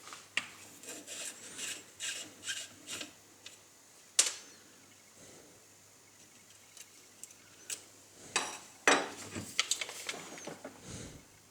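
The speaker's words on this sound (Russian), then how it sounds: "Первым делом откручиваем угольные щетки." Screws on the carbon brush holders of a faulty angle grinder being undone with a screwdriver, close faint scraping and clicking rasps in short irregular bursts, a sharp tick standing out midway.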